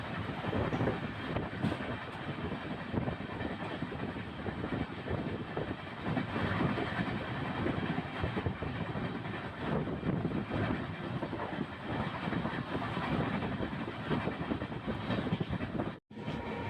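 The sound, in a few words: Mysuru-Shirdi Express train passing Ajjampura railway station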